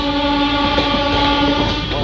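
The Jabalpur–Nizamuddin train passes near Agra Cantt, heard from another moving train as a loud, continuous rail rumble with a steady tonal hum throughout.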